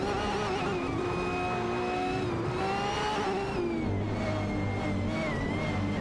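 Video game race cars, a McLaren 600LT and Lamborghini Aventador SVJs, roar steadily through a race, their engine tones rising and falling continuously at close range with no voices.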